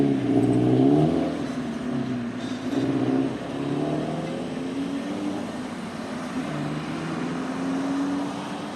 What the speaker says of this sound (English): his gearbox don't sound too good